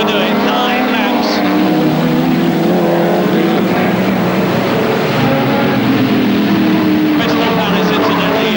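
Saloon cars, including a Vauxhall Viva GT, race flat out along the fast section of the 1.4-mile Crystal Palace circuit in the 1971 championship, loud continuous engine roar with a commentator talking over it.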